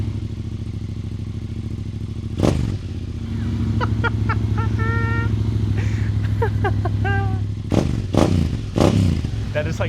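Low, bassy idle of a Yamaha Tenere 700 motorcycle fitted with a Yoshimura exhaust, a steady deep burble throughout with a couple of sharp clattering knocks and some faint squeaky noises on top.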